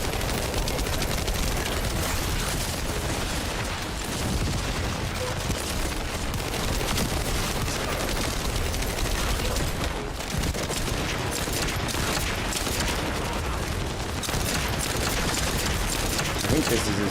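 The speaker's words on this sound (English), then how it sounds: "I love this SMG," Continuous SMG gunfire from The First Descendant rattles densely and loudly throughout, mixed with game effects and a voice speaking over it.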